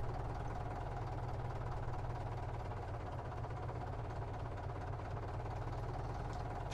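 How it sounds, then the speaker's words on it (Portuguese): A chipped Case Magnum 380 AFS tractor mod in Farming Simulator 19 drones with a steady, low engine rumble that holds even and unbroken throughout, with no talk over it. "Ó o rombo desse trator"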